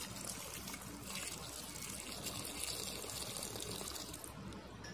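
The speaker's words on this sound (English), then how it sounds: "So into a pressure cooker goes in the potatoes, then water as required." Water trickles and pours into a pressure cooker holding potatoes, a soft, continuous splashing stream heard close and alone for a few seconds.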